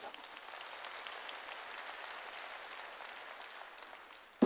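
A church congregation claps during a sermon, producing a faint, steady patter of many hands that holds at an even level throughout, with a sharp burst right at the end.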